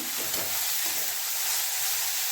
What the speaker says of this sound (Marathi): कांदा मऊ झाला आहे, कोबीज घालून घेऊ. कांदा आणि कोबीज आपलं अर्धकच्चं भाजलेलं आहे.